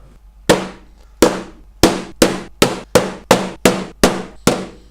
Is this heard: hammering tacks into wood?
yes